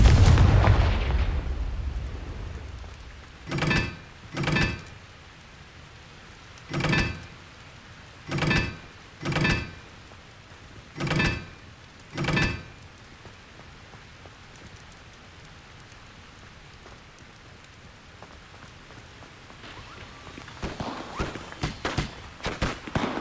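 Expelliarmus and Confringo spells cast in a video game, heard as about eight sharp, booming blasts at irregular intervals over a soft, rain-like background hiss, with a rougher rustling swell near the end.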